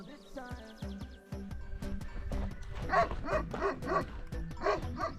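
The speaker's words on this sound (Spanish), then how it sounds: "Más rebaños, más perros. Ladran mucho, pero morder poco." Sheepdogs guarding flocks on a mountain pass in Asturias bark repeatedly at fairly close range. Scattered yips come first, then a run of louder barks from several dogs.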